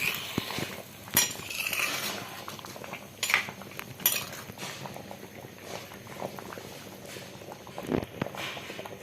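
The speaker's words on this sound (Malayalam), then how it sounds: "നന്നായിട്ട് തിളയ്ക്കുന്നുണ്ട്" A Kerala-style mackerel fish curry boils on the stove, bubbling and pattering softly at close range. Occasional clinks of metal utensils and pot knocks sound over it, and there is no talk.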